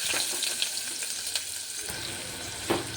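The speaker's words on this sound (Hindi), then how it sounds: "इथे कुकर गरम झालेला आहे तेलसुद्धा गरम झालेलं आहे तर इथे राई टाकलेली आहे कढीपत्ता मिरची कांदा" Mustard seeds, curry leaves, chilli and onion sizzle and crackle in hot oil inside a pressure cooker, a steady close frying hiss with scattered pops and a louder spit near the end, no talking.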